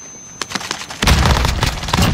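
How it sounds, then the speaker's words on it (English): A frag grenade blast in Warzone, a heavy boom arriving mid-clip after scattered sharp gunshots, followed by a loud dense rumble with more shots cracking through it. "Frag out."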